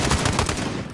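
Rapid gunfire in a PS4 shooter, a dense, loud burst of closely spaced shots filling the whole second.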